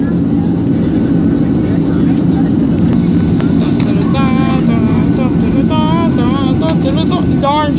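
A loud, steady roar of aircraft engines and rushing air fills the cabin throughout a plane's landing, with faint voices rising and falling beneath it.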